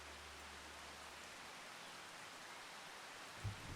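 Steady rain falling outdoors on a farm during hay making, a continuous soft hiss of drops on surfaces with a low rumble underneath and a faint bump near the end.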